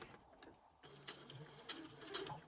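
Sewing machine stitching bulky fabric for wrap-and-roll house slippers, faint, slow, deliberate mechanical clicks and whirs a stitch at a time.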